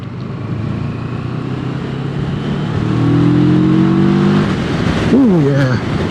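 A Moto Morini Seiemmezzo 650 Scrambler motorcycle accelerates on the road, its engine note climbing through the gears, with steady wind rush throughout. A rider's voice is briefly audible over the engine.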